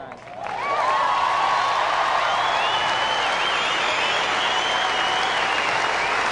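A large tennis crowd bursts into sustained, loud applause and cheering after match point in an Australian Open 2003 quarterfinal, rising quickly and holding steady throughout.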